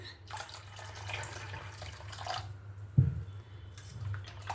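Tap water runs steadily into a thin rice-flour batter for chakli pitha, a low continuous trickle with a brief splash near the end, close and fairly quiet, with no one talking.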